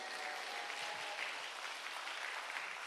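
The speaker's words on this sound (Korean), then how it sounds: "다시 한번 감사의 박수를 할렐루야" Congregation applause of thanks at a summer mountain church revival meeting, a soft, distant wash of continuous clapping lasting a few seconds.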